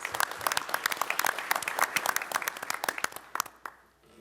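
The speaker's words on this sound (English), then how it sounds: "Let's give them a round of applause" Room applause for the Austin Color Guard at a law enforcement commission meeting, many hands clapping steadily and fairly close before thinning out into a few last claps and silence.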